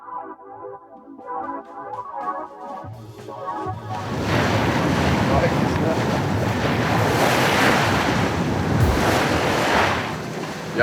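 Rough sea and gusting wind on a sailboat motoring up the Saint Lawrence ahead of a hurricane's tail, a loud continuous roar of waves and wind buffeting the microphone, with quieter faint voices at the start before the roar swells.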